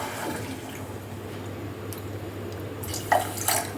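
One and a half cups of water pour onto two cups of sugar in a pan to start syrup for gulab jamun. A brief splashing pour stands out near the end over quiet kitchen hum.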